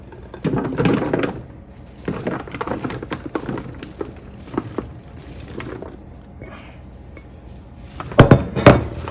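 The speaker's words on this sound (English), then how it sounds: "Dump all your ingredients on there." Pieces of sausage, potato and vegetables clatter and thud onto a metal sheet pan in several scattered bursts, with a louder cluster of clanks near the end.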